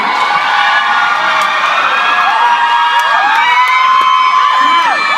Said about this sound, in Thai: ขอเสียงเชียร์ทุกทีมหน่อยแล้